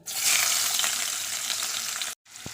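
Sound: chopped onions frying in a wok

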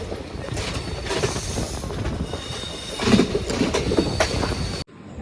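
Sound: Palaruvi Express train slowly turning on the tracks

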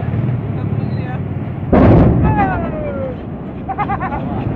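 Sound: explosion at docked ship's tank

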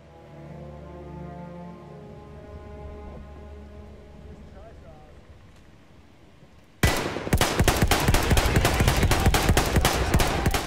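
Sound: gunfire and explosions in the video game Battlefield 1

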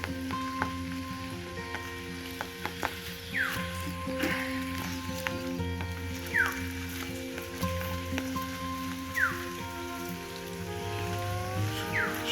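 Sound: heavy rain falling

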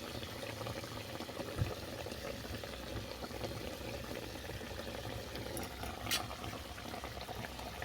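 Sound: bhola fish in mustard sauce boiling

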